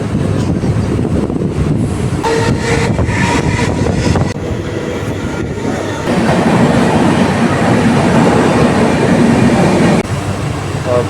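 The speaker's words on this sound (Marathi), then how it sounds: "भाईंदरवरून ट्रेन निघाली आहे" Mumbai suburban local train running between Bhayandar and Mira Road, a steady loud rumble of wheels and carriage with rattling and rhythmic clatter throughout, wind buffeting the microphone, no talk.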